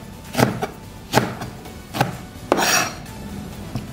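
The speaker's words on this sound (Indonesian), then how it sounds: "Cabenya dipotong seperti ini." A knife chops chili peppers on a board in four distinct, evenly spaced strokes, each a sharp close knock, with a slightly longer scraping cut near the third.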